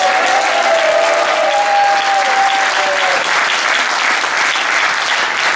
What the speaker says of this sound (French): Merci de vos applaudissements pour Laurent Pariot.